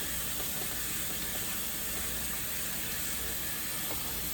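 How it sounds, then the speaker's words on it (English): Tap water runs into a bowl, refilling it for washing vegetables, giving a steady close hiss that stays even throughout. "I'm going to put some new water in here."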